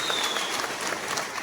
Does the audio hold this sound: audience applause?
yes